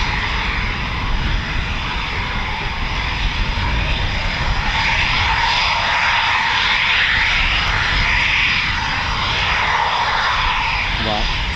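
A Eurofighter Typhoon FGR4 jet departs from RAF Coningsby, a loud, sustained roar that fills the whole stretch, with a faint rising whine near the end.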